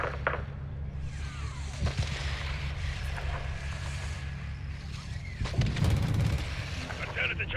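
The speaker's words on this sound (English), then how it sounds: "Shadow 1, we're taking RPG fire from the east" Distant artillery-like booms and scattered gunfire during an RPG attack in the Modern Warfare II campaign, a low rumbling wash with a heavier blast near the end, with some speech-like radio chatter mixed in.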